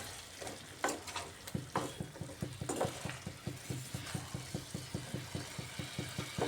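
Papaya, potato and rohu fish curry masala is sautéed in a pan, a quiet sizzle broken by a steady run of rhythmic scraping stirs, close and soft, with no voices.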